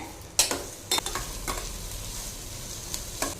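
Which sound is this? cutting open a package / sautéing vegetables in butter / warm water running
sautéing vegetables in butter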